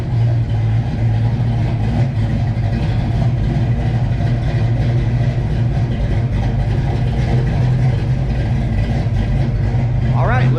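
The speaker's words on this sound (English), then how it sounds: "when we put the supercharger on it, I can hear the supercharger better" A supercharged Ford Mustang Fox-body with new tailpipes and 3.73 gears runs steadily nearby, a low droning exhaust note holding throughout with a faint rising whine near the end.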